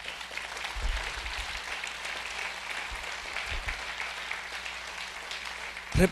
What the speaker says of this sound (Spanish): Me gustaría que le dieras un aplauso grande a Jesús.